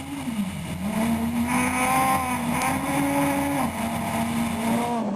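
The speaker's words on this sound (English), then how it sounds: "Charles Wilkin and Greg Godridge in the Basil Reed Ford Fiesta, currently in 6th position overall" A Ford Fiesta rally car at a 2011 Polokwane rally races past with a loud, continuous engine roar that rises and falls in pitch as it revs through the gears.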